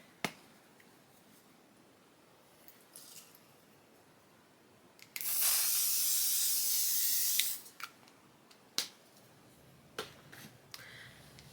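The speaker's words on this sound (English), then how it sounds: "I'm gonna go ahead and lock it in with my infallible spray." A single long hiss of makeup setting spray for about two seconds, close and loud, with soft clicks and taps before and after.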